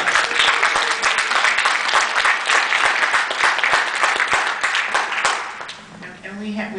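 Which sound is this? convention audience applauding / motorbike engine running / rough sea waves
convention audience applauding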